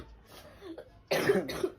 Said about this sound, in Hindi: ये देखो खांसी हो रही है इसके